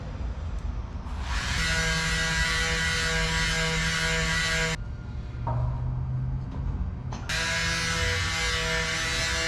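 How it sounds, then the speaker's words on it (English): Power sanding a small piece for a DIY truck camper build, a steady loud electric whir running in two long stretches with a brief drop in between, alone without talk. "I just need to sand it down to get it to fit a little bit."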